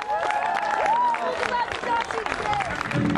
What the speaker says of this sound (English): put your hands together and give an enormous cheer for all the bands and dancers you've seen today